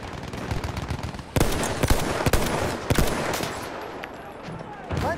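Battlefield 1 gunfire during a Ballroom Blitz Conquest match crackles in sharp bursts and single loud shots, fairly close, over a busy battlefield din with occasional voice chatter.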